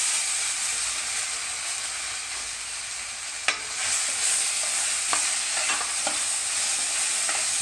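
Cooked dal poured over fried crushed chili sizzles in a pan, a constant bright hiss with several sharp clicks and scrapes of stirring, no talking.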